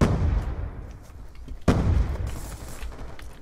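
A grenade goes off in Black Ops 2 amid steady gunfire, with one sharp, loud blast standing out in the middle of the rumbling battle noise.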